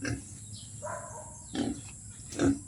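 A backyard piglet about two months old gives a few short, close grunts and squeals, spaced apart with quieter pauses between them.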